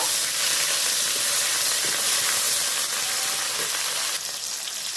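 Tomato frying down in hot oil with nigella seeds and chillies for a drumstick and poppy-seed curry, a dense continuous sizzle and hiss that stays loud and close throughout, easing slightly near the end.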